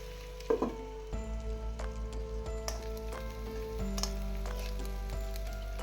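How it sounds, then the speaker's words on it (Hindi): Chicken dry-fried village style in a pan over a low flame and stirred constantly, giving a steady, soft sizzle with light stirring knocks and a low background hum. "इसी तरह से हिला हिला के फ्राई करना है इसको।"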